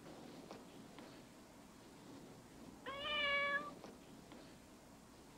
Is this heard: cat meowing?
yes